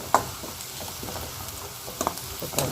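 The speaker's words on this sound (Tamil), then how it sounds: "வெங்காயம் நல்லா வதங்கிட்டு இருக்கு." Onions sautéing in oil for tomato pachadi, a soft continuous sizzle with a few brief stirring scrapes of a utensil in the pan.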